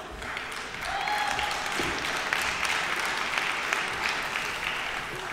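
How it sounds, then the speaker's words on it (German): Delegates at a party conference break into steady, dense applause that swells after a moment and holds evenly, with a brief tone and faint crowd noise underneath. "Applaus"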